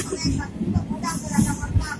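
Train rumble and rattling carriage noise fill the background, steady and close, while people talk over it.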